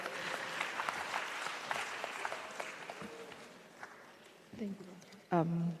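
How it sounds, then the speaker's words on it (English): A conference audience applauds steadily, fading toward the end as a nearby voice begins speaking. "Please, a round of applause for yourselves."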